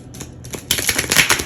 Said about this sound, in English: they're not shuffling very easily